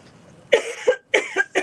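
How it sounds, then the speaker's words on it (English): A person coughs close to the microphone in a series of about five harsh, hacking bursts split into two quick groups, alone with no talk. "let me cough now."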